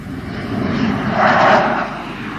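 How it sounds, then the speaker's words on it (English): A spotter aeroplane drones steadily overhead, its engine hum swelling slightly as it passes at moderate distance, with no voices. "The spotter aeroplane is always overhead in case of trouble."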